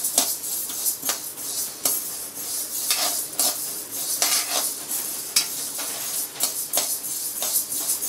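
A utensil stirs dal continuously in a pan, scraping and clinking against the metal in a steady rhythm over a faint sizzle, close and with no speech.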